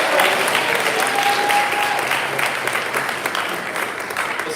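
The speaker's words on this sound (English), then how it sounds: "You should be applauding right now." An audience at a school senior awards ceremony claps in sustained, dense applause that fills the room, staying loud and steady and easing only slightly toward the end.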